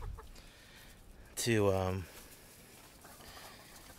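A hen gives a single loud, drawn-out cluck lasting about half a second, standing alone over quiet background, with a faint bit of human speech just before it.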